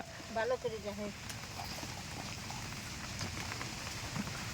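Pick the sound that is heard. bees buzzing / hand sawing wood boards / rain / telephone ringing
rain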